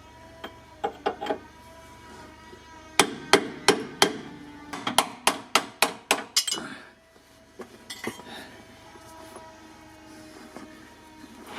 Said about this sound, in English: You can actually hear the chassis reverberate as well.